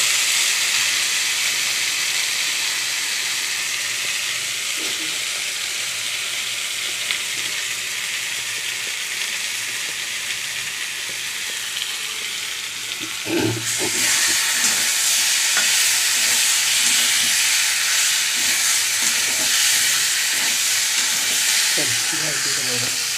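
Spices being sautéed in a pan while cooking a curry give off a steady, close frying sizzle and hiss throughout, growing louder and brighter partway through with occasional stirring clatter.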